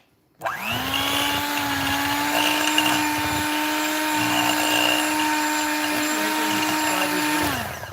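A blender whips tallow balm in one continuous loud, steady whir lasting several seconds, starting abruptly and cutting off near the end, with no talking.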